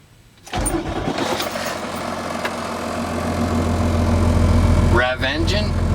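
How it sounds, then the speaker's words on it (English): A car engine cranks and catches after a moment of quiet, then idles loudly and rises slightly, with a brief squeal near the end. "Start the engine."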